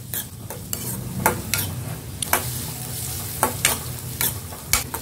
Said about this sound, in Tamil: ஸ்லோ ஃப்ளேமில் வச்சு நல்லா வதக்கிக்கலாங்க.